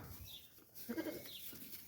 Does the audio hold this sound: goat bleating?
yes